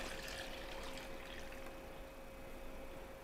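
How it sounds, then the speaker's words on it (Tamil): Water poured out of a burnt cooking vessel after gentle scrubbing with a soft scrubber, a steady rushing splash throughout, close and fairly loud with a faint tonal hum beneath. "இப்போ இந்த தண்ணியை ஊற்றிடலாம்."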